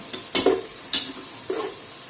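Onions browning in a pan for beef tikka masala handi crackle under a low sizzle, while a few sharp spoon scrapes land at irregular intervals up close.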